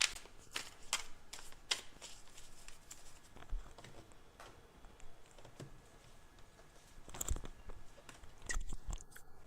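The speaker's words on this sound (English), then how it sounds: "will carefully shuffle the cards and draw 3 cards" Tarot cards being shuffled by hand, close-up papery riffles and soft flicking slaps in uneven bursts, quiet and without talk.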